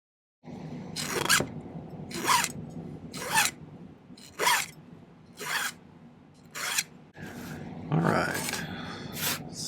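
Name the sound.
trimming excess silver sheet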